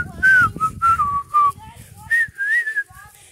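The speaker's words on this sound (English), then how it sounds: "The whistling one." A person whistles a bouncing melody in short repeated phrases, clear and close, with faint rustling and low background noise beneath.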